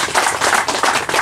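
Audience clapping for a village head and a district head at a road reopening, a dense steady patter of many hands filling the short moment without a break.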